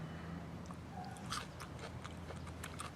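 Biting and chewing into a crunchy vegetable picked from a front-yard raised-bed summer garden, with crisp crunches scattered over about three seconds, close and fairly quiet, with no talking.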